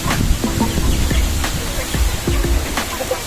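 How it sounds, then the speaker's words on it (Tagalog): Rooster and hens cluck in a backyard chicken pen, several short calls scattered over a steady outdoor hiss, fairly close. "Ito yung aking kaisa-isang tandang."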